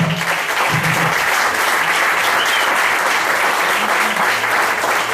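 A congregation at a church service claps in loud, sustained applause filling the room, with faint voices beneath.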